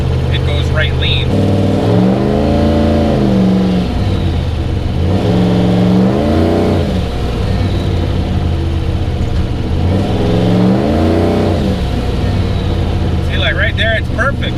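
A car engine revs hard and drones under turbo boost, with a rough lean-running fault, rising and falling in long loud surges that fill the cabin; voices speak over it.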